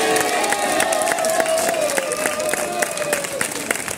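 Audience applause with cheering at a lively community gathering, a steady wash of clapping hands and crowd noise sustained throughout at close range, with a faint voice underneath.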